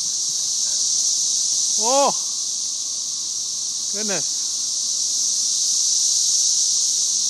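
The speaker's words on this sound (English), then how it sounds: "This is the 13-year cicadas." Swarm of 13-year periodical cicadas in a tree, a steady loud high buzzing drone throughout, with two brief rising squeaky calls and a short exclamation from a person nearby.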